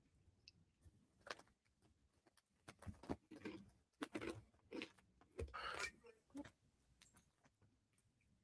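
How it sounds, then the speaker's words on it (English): Crunchy Funyuns snack chips are chewed close to the microphone, giving irregular bursts of crisp crunching with short quiet gaps between bites. "I hope y'all don't hear the crunching. I'm enjoying a little bag of Funyuns."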